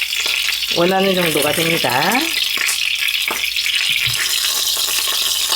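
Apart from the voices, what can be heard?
pork belly frying in oil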